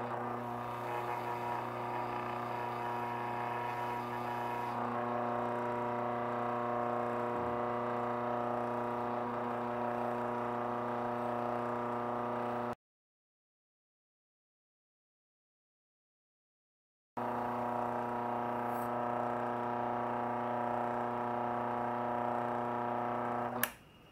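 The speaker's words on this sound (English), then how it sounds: "Let me take you over to the polishing wheel." A polishing wheel with white rouge buffing a bone letter opener blade, a steady motor hum and whir with faint rubbing, a silent gap midway, then the droning resumes.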